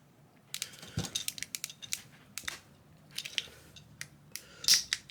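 Plastic joints clicking on a Transformers Studio Series 31 Battle Damaged Megatron figure's leg, a string of sharp, close, quiet snaps with one louder click near the end.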